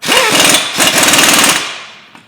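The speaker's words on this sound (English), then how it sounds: "we'll whack that up with the air gun" A pneumatic air gun tightens an 18mm nut onto a 15mm bolt through the lower hub of a Ford Mondeo Mk5 in a workshop, giving two loud, close bursts of rapid rattling hammering, each followed by a short trailing hiss.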